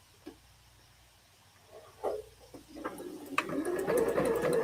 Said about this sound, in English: it's gonna sew a 1/4 down on all of these